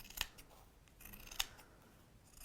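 Scissors snip through a fabric seam allowance, two crisp cuts about a second apart, quiet and close, with nobody speaking.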